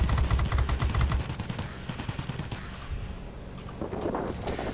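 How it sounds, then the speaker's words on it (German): Rapid machine-gun bursts from a rear gunner turret firing at a bomber in World of Warplanes, loud clattering volleys at first that ease into a lower, steadier roar of engine and wind. "Dann schieße ich halt mit meinem Heckturm drauf."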